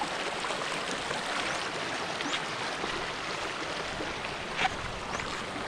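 Rushing water flows steadily with a dense, hissing roar that barely changes, like a fast, muddy river current heard up close.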